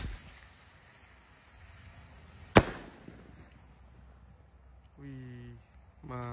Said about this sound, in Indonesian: ada roket Gold Dragon roket ukuran jumbo ya. Ini roket Roman candle. Langsung kita nyalakan.